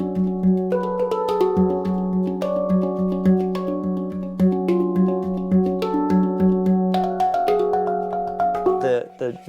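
A steel pan drum, a melodic handpan-style instrument, is played with sustained ringing tones in a flowing sequence of notes with a Middle Eastern feel, close and clear.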